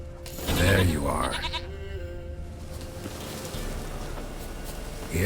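A goat bleats in The Witcher 3, a single wavering call standing out near the start, followed by quieter game ambience.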